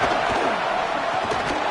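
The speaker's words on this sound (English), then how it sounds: "The Buckeye crowd alive on 3rd down" A big stadium crowd in the College Football 27 video game roars steadily for Ohio State on third down during the Buckeyes' rivalry game against Michigan, a constant, loud, dense wash of cheering.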